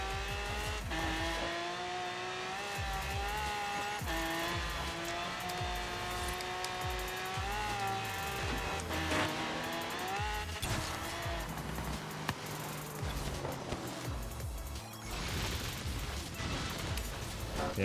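A car runs at full throttle in Forza Horizon 3, the engine droning loudly and climbing through shifting pitches for a long stretch, with scattered tire noise and some talk beneath.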